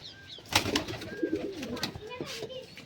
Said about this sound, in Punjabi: ਬਾਕੀ ਕਬੂਤਰੀ ਵੜ ਗਈ ਇੱਧਰ